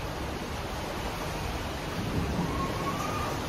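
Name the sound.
heavy rain with thunder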